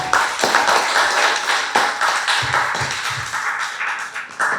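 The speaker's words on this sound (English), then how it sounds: "I think he deserves a larger round of applause" Applause at a book launch event, clear close hand claps from a modest audience in an irregular rhythm across the whole moment.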